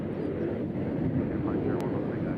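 An airliner at Nashville International Airport gives a steady, moderately loud engine rumble throughout, heard from a distance with a faint bird chirp near the end.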